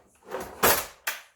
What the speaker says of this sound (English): Got the cutlery drawer underneath.